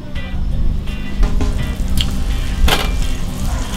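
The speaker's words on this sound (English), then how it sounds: "we're just gonna throw some butter down here on the Cuisinart, because we're gonna cook up some onions" Butter sizzling and frying on a hot Cuisinart griddle before onions go on, a steady close crackling hiss with occasional sharper pops and ticks.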